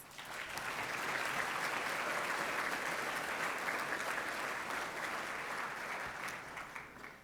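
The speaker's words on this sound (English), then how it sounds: "Please let's give all of our sponsors and wonderful helpers a round of applause" An audience at the Oro Valley State of the Town Address gives sponsors and helpers a sustained round of applause, even and moderately distant, swelling quickly and tapering near the end.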